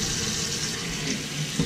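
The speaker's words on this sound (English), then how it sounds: "I'm going to fill my pot with water." Water from a kitchen tap runs into a cooking pot being filled to boil sweet potatoes, a steady hiss and splash lasting under two seconds.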